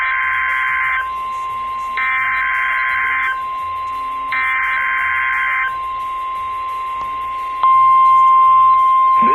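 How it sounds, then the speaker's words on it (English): NOAA weather radio warning alarm test from the National Weather Service in Mobile, Alabama: a loud two-tone alert blaring in three long bursts over a steady underlying tone, ending in a sharp click and a louder sustained tone. "The preceding signal was a test of the NOAA weather radio warning alarm device"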